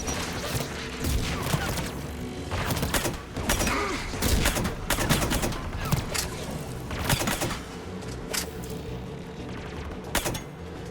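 Mass Effect 3 combat with heavy bursts of gunfire and rapid automatic shots from tower defense guns, loud overlapping volleys with crashes and impacts across the whole stretch.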